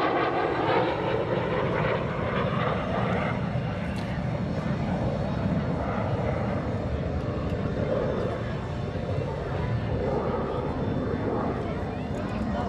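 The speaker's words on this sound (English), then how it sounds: "This is an L-39 CA manufactured in 1982. It's an example of a Cold War Soviet-era aircraft" An Aero L-39CA Albatross, a Czech-built Cold War jet trainer from 1982, roars past at an outdoor military airshow, its loud, steady engine noise filling the whole stretch without a break.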